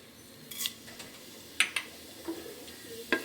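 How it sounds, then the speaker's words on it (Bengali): Whole spices, dried red chillies, a torn bay leaf and panch phoron, fry in hot mustard oil, a soft sizzle broken by several sharp clinks of a spoon against the pan, no talk. "এটা একটু তেলের মধ্যে ভেজে নেব।"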